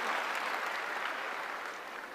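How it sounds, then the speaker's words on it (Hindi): Dense, sustained clapping from a large audience at a stadium success-day event, loud and continuous, easing slightly toward the end. "जोरदार ताली हो जाए"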